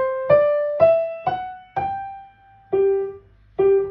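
A piano plays a short phrase from Bach's Minuet in G with the ornament placed before the beat, giving six clear struck notes with sustained tones, close and alone.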